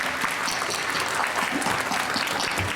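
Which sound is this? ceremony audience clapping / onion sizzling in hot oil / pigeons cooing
ceremony audience clapping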